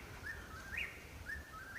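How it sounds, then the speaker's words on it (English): A lone small bird sings on an Appalachian Trail morning, a few thin rising chirps repeated at intervals, moderately near over quiet background hiss, with no talking. "He's about the only bird I hear in the morning other than the random owl"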